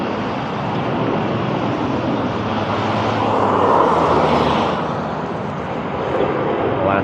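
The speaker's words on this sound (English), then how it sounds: "Alaska Airlines flight." An Alaska Airlines jet passes overhead with a broad, rushing engine roar that builds to a peak midway and then fades, steady background rumble throughout.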